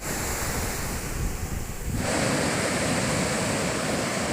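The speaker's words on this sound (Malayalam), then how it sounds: "തിരമാലയ്ക്ക് ശക്തി കൂടി വരുന്നുണ്ടെന്ന് തോന്നുന്നു" Strong Arabian Sea waves crashing nearby at a deep stretch of shore by Vettukad church, a rushing roar that swells noticeably louder halfway through, with wind noise mixed in.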